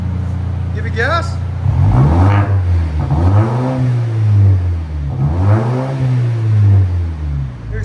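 A 2019 Volvo S60 T6 2.0L turbo with muffler delete revs hard several times up close, each loud rising and falling engine swell sweeping over a rumbling idle.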